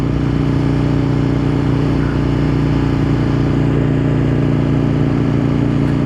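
An Aprilia motorcycle engine runs steadily and loud throughout, a continuous droning hum with strong low harmonics as the rider shifts gear without the clutch; no voices.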